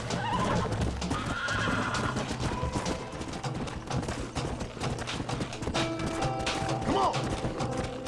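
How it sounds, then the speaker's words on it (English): Horses whinny and their hooves clip-clop in the Western video game Red Dead Redemption, a loud, busy scene with neighs rising over steady hoofbeats and other clatter, and a voice speaks within it. "Don't you lay a finger on them horses, Victor."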